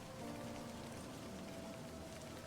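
Rain falls steadily in the video game Livber: Smoke and Mirrors, a faint, even hiss of drops with soft tonal hum beneath, unbroken and without talk.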